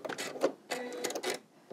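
A sewing machine stitching along a marked line, running in short choppy bursts of rapid mechanical needle clatter with brief pauses between them, fairly close and moderately quiet.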